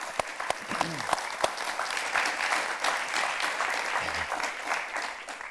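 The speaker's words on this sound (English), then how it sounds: "can we just give her another round of applause" An audience at a documentary screening with the director present applauds: a few sharp, separate claps at first, then a full, sustained round of clapping that stays steady for several seconds, with faint voices murmuring underneath.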